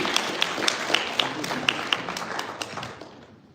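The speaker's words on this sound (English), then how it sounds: "A warm applause for your hands, please" Light applause from an audience welcoming a speaker at a live scholarship event, a handful of distinct claps close by over a soft spread of clapping that fades out.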